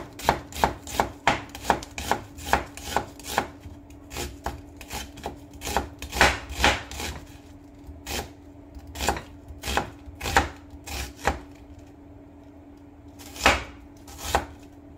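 Knife slicing tomatoes thinly on a cutting board for baked feta orzo, a rapid run of crisp, evenly spaced chops, pausing briefly, then resuming in slower separate cuts, close up with no talk.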